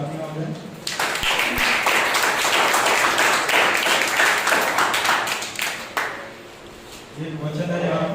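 A church congregation at a Sunday service claps loudly for several seconds in a dense, enthusiastic burst. Voices are heard briefly before and after.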